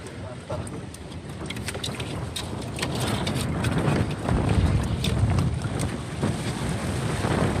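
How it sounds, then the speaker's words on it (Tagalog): Strong wind gusts across a small fishing boat during net fishing for shrimp and crabs in a typhoon, a steady blustery roar that builds toward the middle, with occasional knocks and faint voices. "Ah, lakas ng hangin."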